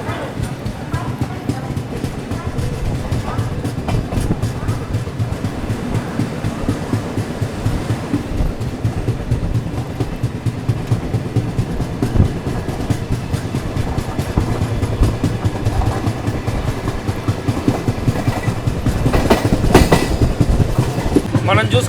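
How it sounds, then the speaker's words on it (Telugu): Chennai–Bengaluru double decker express train running on an electric line, a steady rumbling roll with rhythmic clatter throughout, loud and continuous, building slightly toward the end. "సో మన ట్రైన్ అయితే డిపార్ట్ అయిపోయింది. సో రన్ అయితే మాత్రం చాలా బాగుందండి"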